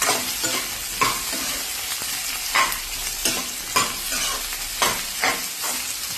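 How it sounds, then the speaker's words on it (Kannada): Okra (lady's finger) frying in a pan to cook off its sliminess, a steady close sizzle broken by regular scraping stirs roughly every second, with no talking. "ಇದನ್ನ ಬೆಂಡೆಕಾಯಿನ ಚೆನ್ನಾಗಿ ಫ್ರೈ ಮಾಡಬೇಕೀಗ,"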